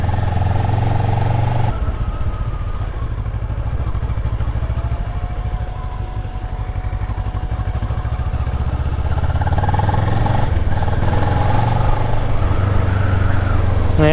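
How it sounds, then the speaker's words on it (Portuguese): A motorcycle engine misfires while riding along an interior São Paulo road, a loud steady drone broken by uneven stumbles and clattery dips, with wind rushing past throughout. "Tá falhando mais agora a moto."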